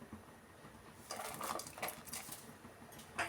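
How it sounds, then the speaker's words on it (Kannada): A utensil scrapes and clinks against a pot as brinjal sambar is stirred, quiet at first, then a cluster of soft metallic taps and scrapes, with a brighter clink near the end. "ಒಂದು ಸಾರಿ ಚೆನ್ನಾಗಿ ಈ ಥರ ಮಿಕ್ಸ್ ಮಾಡ್ಕೊಳ್ಳೋಣ"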